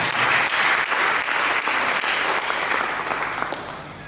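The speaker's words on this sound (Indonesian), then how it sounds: "Mari berikan tepuk tangan." A church congregation gives a Christmas Day service a round of applause: dense, steady clapping from many hands fills the room, holding strong throughout and easing slightly toward the end.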